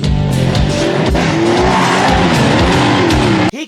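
Racing motorcycle on a track roaring loudly and continuously with engine whine and tire screech, cutting off abruptly near the end.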